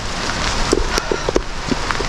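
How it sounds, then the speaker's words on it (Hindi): Steady rain patters close by in the Parvati Valley, Himachal Pradesh, with scattered heavier drops tapping irregularly on a surface. "Guys, started raining."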